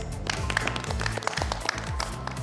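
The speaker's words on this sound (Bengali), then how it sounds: "সবাই সবার জন্য একটা হাততালি দেই।" A studio audience at a televised makeup competition show claps together, dense steady applause lasting throughout with no talking over it.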